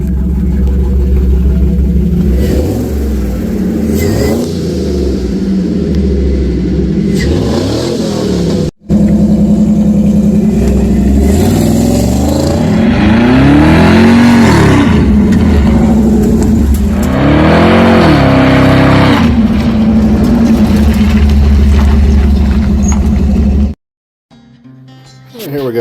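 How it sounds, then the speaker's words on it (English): At a junkyard, a car engine idles and revs repeatedly, rising and falling in pitch up close, with a brief drop near the end. "can you rev it up a little bit? Hear it run?"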